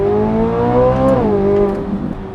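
Inside the cabin of a 2023 Corvette C8 Z06, the V8 drones steadily, then its pitch drops with a downshift, a loud close engine note with no talking.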